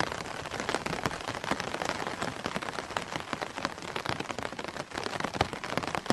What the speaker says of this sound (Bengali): আর কানে ভেসে আসছে শুধু ছাতায় পড়া ফোঁটা ফোঁটা পানির আওয়াজ।